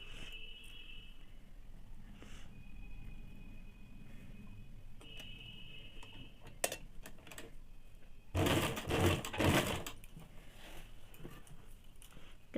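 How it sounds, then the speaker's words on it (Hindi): A sewing machine fitted with a single piping foot stitches piping onto cloth, quiet ticking and faint whirring before a short loud burst of rapid stitching runs for about a second and a half near the end. "कपड़े को 1/2 इंच के ऊपर पाइपिंग रख के कपड़े के ऊपर इस प्रकार से पहले सिलाई चला लेंगे"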